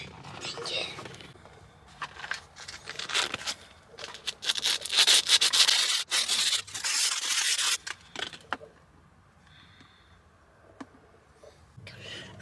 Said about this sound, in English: we're going to use this sandpaper provided here, and we're going to sand this off.